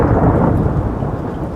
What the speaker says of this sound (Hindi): बारिश तेज थी मगर कालू कौवा भी बारिश में उड़ना जानता था।